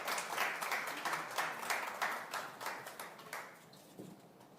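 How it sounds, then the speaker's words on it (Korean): Audience applause welcoming a candidate on stage at a political party presidential primary vision presentation event, continuous rhythmic clapping from a crowd, fairly distant and moderately loud, with no talking. "박수로 환영해 주십시오."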